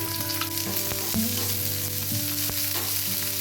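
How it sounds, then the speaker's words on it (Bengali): Chopped onion fries in hot oil in a pan, crackling loudly and continuously while being stirred, with a few sharp clinks and background music running under it. "তেলটা গরম হয়ে গেছে পেঁয়াজ কুচিটা দিয়ে দিচ্ছি"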